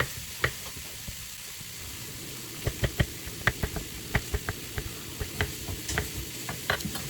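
A knife scrapes skin off a piece of food in short, sharp strokes, sounding as irregular dry clicks and scratches over a faint background hiss, with no talking.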